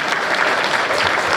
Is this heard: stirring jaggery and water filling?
no